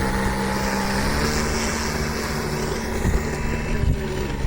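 An airplane engine runs during takeoff as a loud, steady propeller drone with wind rushing over the microphone, holding level throughout with slight surges near the end.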